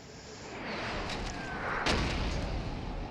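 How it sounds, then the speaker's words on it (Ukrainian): Artillery fire in the Napoleon: Total War battle game: a dull, distant boom rolls out over a continuous low battlefield rumble, with faint thuds around it. "Це вже моя артилерія починає працювати."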